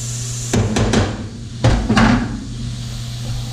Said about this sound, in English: tap on your hammer, make sure everything's flush